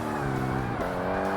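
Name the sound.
car engine in Forza Motorsport video game, 4G63 sound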